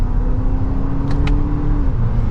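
A 2023 Lexus RX 350 engine pulls under acceleration from third gear, a steady close hum and whir of the motor with road noise, no talking.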